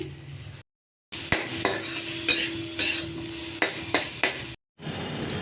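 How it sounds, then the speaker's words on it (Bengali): Potatoes, carrots and cabbage sizzle in a pan for dalia khichdi. A spoon scrapes and stirs them in a run of sharp, repeated strokes over a steady hiss, with brief silent gaps before and after. "দেখো খিচুড়ির জন্য সবজিগুলো একটু ভেজে নিচ্ছি"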